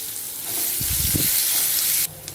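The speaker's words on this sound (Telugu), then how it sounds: "చూసారు కదండి ఈ ఉల్లిపాయ ముక్కలు ఒక అర్థం వేగాలి" Chopped onion pieces frying in oil in a pan, a loud, steady sizzle with a short stirring rumble midway, cutting back near the end.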